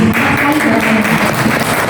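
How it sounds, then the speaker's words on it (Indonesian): A room of people at a school teacher-training session applauds for a teacher, a dense, close wash of clapping with a faint voice mixed in. "tepuk tangan untuk Bu Bena"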